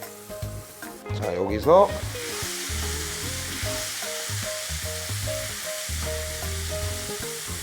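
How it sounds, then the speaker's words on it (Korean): Abalone stir-frying in olive oil in a pan, a loud steady sizzle with stirring, a brief scraping burst near the start, and someone speaking briefly over the cooking. "저 같은 경우엔 지금 올리브 오일에 볶는 게 틀린 점이죠"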